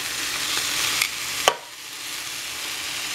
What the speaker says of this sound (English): Oh, look at that mark, the grilling mark.